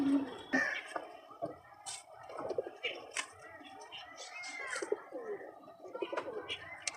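Pigeons cooing in a loft, repeated soft coos and chirps mixed with wing flutters, with some voices in the background.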